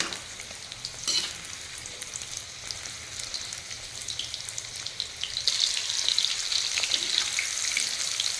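Chicken pieces seasoned with garam masala frying in a pan for chilli chicken, a steady moderate sizzle that grows a little louder, broken by occasional clinks and scrapes of stirring; no talking.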